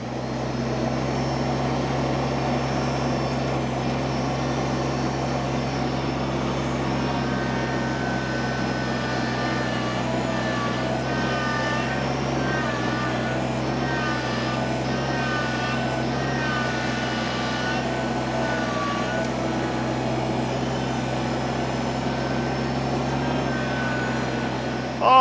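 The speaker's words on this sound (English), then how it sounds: "The tractor is actually the best tool for the job here." A tractor spreads and grades dirt along a retaining wall, a steady droning engine that runs loud and unbroken throughout with no talk.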